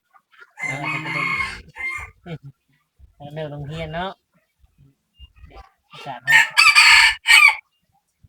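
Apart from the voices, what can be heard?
rooster crowing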